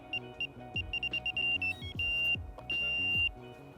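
A Nash Siren R2/R4 carp fishing bite alarm beeps in a quick run of short tones that speeds up and then holds in two longer sustained beeps, close and clear over faint background sounds.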